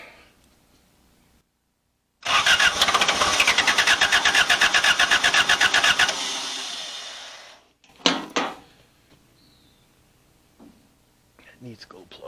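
A Hustler 340 zero-turn mower's diesel engine cranks loudly without glow plugs for about four seconds in a rapid, rhythmic churn, then quiets. A brief sputter follows, with some faint clatter afterward.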